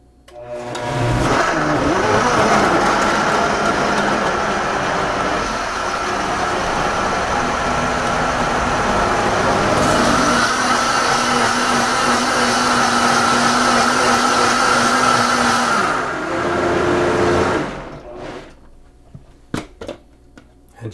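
A blender runs continuously on a green smoothie of whole apples, greens and water, a loud, steady whirring roar with a slight shift in pitch midway, cutting off abruptly near the end and leaving a few clicks.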